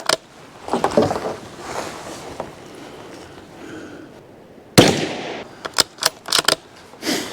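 Gunshots fired at exploding targets outdoors during a steelhead fishing trip, a few sharp cracks and booms, one loud blast followed by a rapid cluster of reports, with quieter stretches between.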